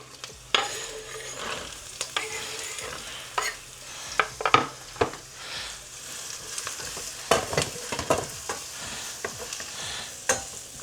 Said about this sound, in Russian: Пускай это потихонечку теперь жарится